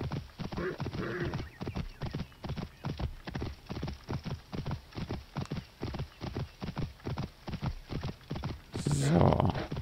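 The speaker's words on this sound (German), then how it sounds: "Ich reite hier immer hin und her." Horse hooves clip-clop in a steady, rapid rhythm while a rider travels back and forth in Assassin's Creed Origins, with an occasional whinny and a louder burst near the end.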